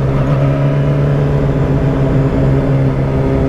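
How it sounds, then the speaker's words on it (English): Two Yamaha R6 motorcycles ride close together at night with loud aftermarket pipes, their exhaust notes droning in steady sync; a strong, continuous engine hum with layered tones, close and loud, no talking. "anytime we ride really close together, our exhaust notes sync up"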